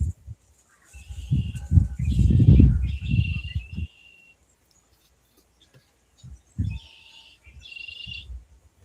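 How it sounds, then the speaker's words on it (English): Birds chirp in short bright bursts, a few clustered calls early and again near the end, heard alongside low thumping and murmuring sounds nearby. "listening to the birds"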